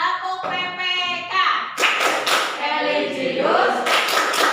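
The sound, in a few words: students doing rhythmic Tepuk PPK clapping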